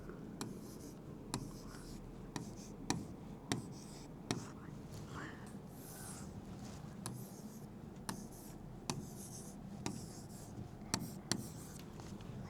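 Pen or chalk strokes write numbers during a basic maths lesson, a steady run of faint taps and scratches in an irregular rhythm, close and quiet over a hushed background.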